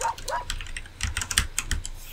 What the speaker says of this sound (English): Let me see if I can use my keyboard at all. Sorry about all the noise.